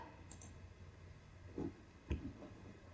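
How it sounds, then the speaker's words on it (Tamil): A computer mouse clicking while opening VS Code on a desktop, two or three quiet, sharp clicks in close succession against a hushed room background, with no talking. "டெஸ்க்டாப்ல விஎஸ் கோட கிளிக் பண்ணிக்கோங்க."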